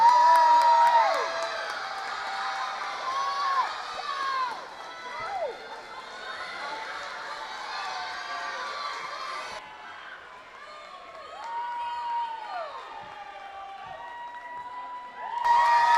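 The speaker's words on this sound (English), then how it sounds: "Let's cheer Maddie on." Crowd at a 2023 regional summer swim meet cheering on a swimmer, with shrill shouts and whoops rising and falling steadily, sometimes swelling louder.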